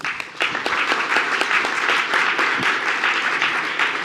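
Audience applause at an evening event with a former Education Secretary, a dense, steady wash of many hands clapping that fills the room for several seconds without talk.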